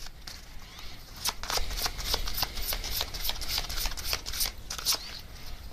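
A deck of oracle message cards shuffled in steady, crisp riffles close to the listener, repeated flicks of card stock carrying on for several seconds with no voice.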